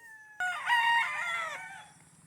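A rooster crows loudly and close at a farm, one long cock-a-doodle-doo starting abruptly and trailing off, with chickens clucking faintly underneath.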